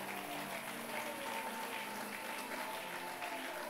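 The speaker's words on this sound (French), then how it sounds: "Applaudissons l'Éternel." Church congregation applauding together at a Sunday service, steady dense clapping filling the space, sustained and even from start to finish with no talking over it.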